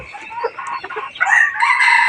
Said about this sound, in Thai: เจ้าทิฟฟี่คือไก่